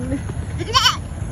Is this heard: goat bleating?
yes